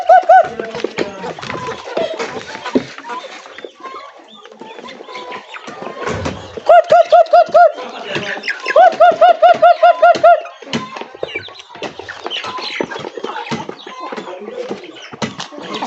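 Chickens clucking and turkeys gobbling in rapid bursts at feeding, close and fairly loud, with other farmyard bird calls scattered throughout.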